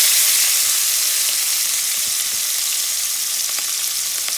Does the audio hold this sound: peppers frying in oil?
yes